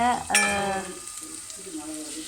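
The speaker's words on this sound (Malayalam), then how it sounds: "പിന്നെ കൊച്ചുള്ളി ഇട്ടു. നല്ലോണം ഇളക്കി കൊടുക്കാം." Shallots and garlic fry in a pan as they are stirred, giving a soft sizzle and light scraping. A voice speaks over the start, and the frying carries on more faintly afterward.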